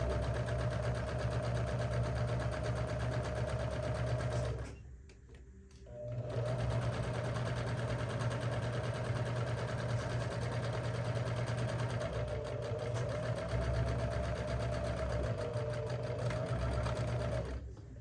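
A sewing machine stitches straight seams on a tote bag, a loud, steady close hum that halts briefly for about a second before resuming and running on evenly to the end, with no talk.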